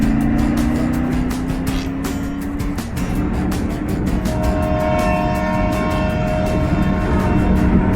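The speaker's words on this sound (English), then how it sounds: "I instantly turn into a 5-year-old little boy whenever I hear a train horn." A passing train's horn blares in sustained tones over the steady rumble and clatter of rail cars in Texas, loud and close, with a second horn chord rising later.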